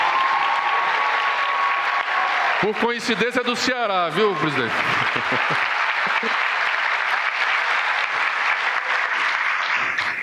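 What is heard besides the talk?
audience applause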